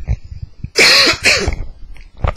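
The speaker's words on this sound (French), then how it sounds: "je vais tousser" A man coughs loudly and close up in two harsh bursts, with faint sounds before and a brief rough noise at the end.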